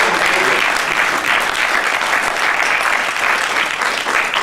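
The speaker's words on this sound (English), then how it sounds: "Give them a round of applause." Steady, dense applause from a large audience fills the space evenly and loudly throughout, with no talk over it.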